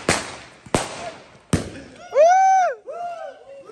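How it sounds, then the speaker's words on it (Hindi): Three sharp firecracker bangs crack out a moment apart during Eid celebrations, followed by a voice rising in a shout or wail. "इस बंदे के सामने अभी पटाखा एक जल गया वो भी बड़ा वाला"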